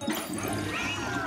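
A cat meows in the video game Luigi's Mansion 3, a short, fairly loud call set against busy game background sound.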